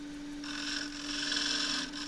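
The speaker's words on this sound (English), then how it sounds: "Now I'm just using the right wing of the tool to shear scrape" Steady shear-scraping hiss of a lathe tool's wing against a spinning wooden eggcup, a soft continuous rasp that swells slightly midway and fades near the end, heard close with no talking.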